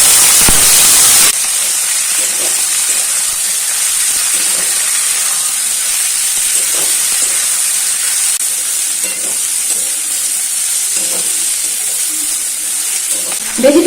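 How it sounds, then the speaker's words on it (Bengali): Chopped onion and vegetables fry in hot oil, a steady moderate hiss and sizzle with faint stirring scrapes, and a brief louder burst at the start and end. "পেঁয়াজটা খুব বেশি ভাজবো না, একটু ভেজে তাতে দিয়ে দিচ্ছি এই ভেজিটেবলসগুলো।"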